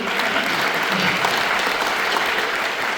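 An audience at a high school senior awards and honors program claps steadily, a dense even wash of many hands that holds at a constant level from start to finish.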